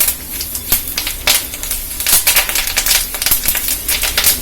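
Fresh curry leaves frying in hot oil, a dense, steady crackling and sputtering close up with rapid irregular pops throughout.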